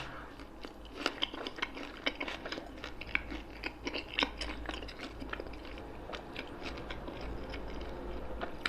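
Close-up biting and chewing of lahmacun, a Turkish flatbread topped with parsley, gone soft after standing; steady soft crunchy mouth noises with frequent small clicks, no talking.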